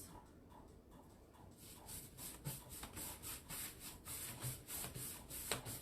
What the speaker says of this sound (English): Because I cleaned this piece really well and sanded it, it's really taking this paint on really good